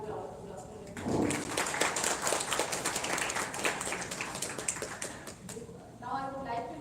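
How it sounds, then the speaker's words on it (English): Audience applause at a film festival award ceremony, a dense burst of clapping that starts sharply after a second, keeps a busy patter for several seconds, then thins as a voice comes back. "So, please have the round of applause."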